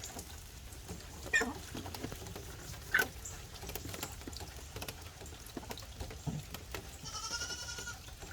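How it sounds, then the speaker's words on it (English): A hen out in the rain on a farm gives a hoarse, sneeze-like call, with two short sharp calls early on and a raspier drawn-out one near the end, all over a steady patter of rainfall. "I know y'all probably heard that chicken make a sound"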